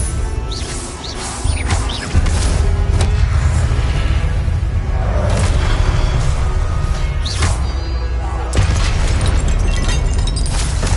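Confringo spell explosions in a Harry Potter video game, loud booming blasts with crackling bursts and rumble, several hits over a continuous roaring battle backdrop.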